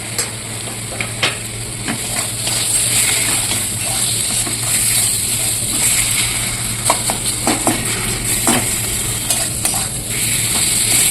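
Chopped tomatoes sauté in a pan for a fish egg and potato curry, giving a continuous close sizzle punctuated by repeated clinks and scrapes of a spoon stirring against the metal, with no one talking.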